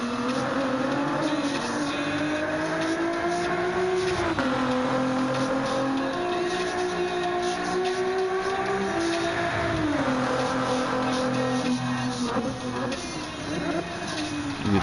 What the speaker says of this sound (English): Ooh, the downshifts